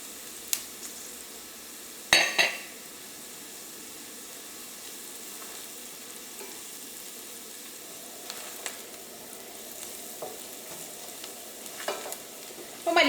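Coriander powder frying in hot oil for a spicy potato curry, a soft continuous sizzle with a few sharp scraping stirs of a spoon in the pan, close and quiet, no talking.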